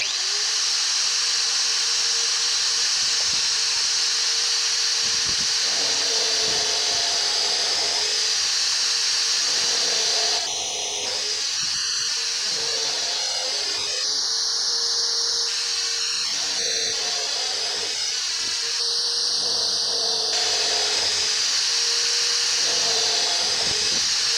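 A homemade stand holding an electric drill whines steadily at a constant pitch throughout, with brief changes in tone partway through, close and loud.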